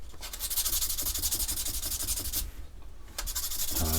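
Fine sandpaper rubbed over a blackened metal screw from an aluminium car mirror, a quick rhythmic scratching of short strokes, close and steady, with a brief pause near the end.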